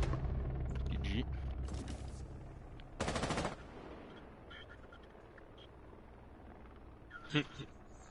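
Video game gunfire aimed from a glass roof: a burst of rapid automatic shots, distant pops and a sharp bang near the end, mixed under game sounds and voices.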